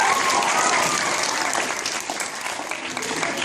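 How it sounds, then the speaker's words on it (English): A round of audience applause for a group of schoolgirls at an education awards program, dense continuous clapping from a roomful of people, loud and steady throughout the short stretch. "Okay, let's give them, these girls, a round of applause."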